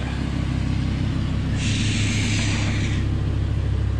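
A car engine idles with a low, steady rumble, close by, with a brief brighter hiss rising over it midway.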